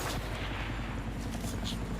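Continuous battlefield gunfire from Battlefield Bad Company 2 on the Isla Defense map, a dense wash of shots and bullet whizzes with low rumbling, steady and unbroken throughout.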